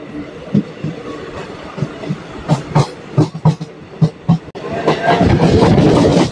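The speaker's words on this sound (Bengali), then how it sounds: "1 মিনিট হল্ট করে ট্রেনটি আবার ছেড়ে গেল সারগাছির উদ্দেশ্যে।" Passenger train pulling away from New Balarampur halt station after a one-minute stop, bound for Sargachhi, with rhythmic clickety-clack of wheels over rail joints growing denser and louder into a steady rolling rumble near the end.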